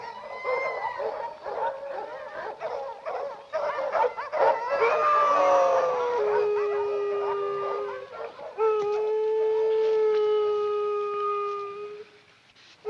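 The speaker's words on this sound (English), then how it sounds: "Don't know what's bellyaching those dogs." Several dogs howl in long, drawn-out wails mixed with a few barks, fairly close and continuous, with a brief pause before the howling swells again.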